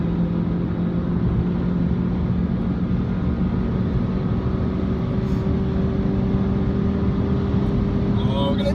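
A 2018 VW Polo GTI engine pulls hard at high speed, a steady droning engine note rising gradually under heavy road and wind noise heard from inside the car, with a brief voice near the end.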